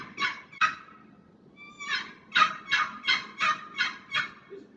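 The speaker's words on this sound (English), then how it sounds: "The two-note yelp of a bird" A wild turkey yelps close by and loud: two sharp calls, a short pause, then a steady, rhythmic run of seven more yelps with nothing else heard.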